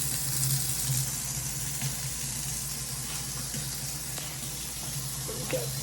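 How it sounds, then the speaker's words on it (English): Water runs steadily from a kitchen sink faucet, a constant close hiss and splash with no break, set in a house with a garbage disposal under the sink. "And you wanted me to turn the water on."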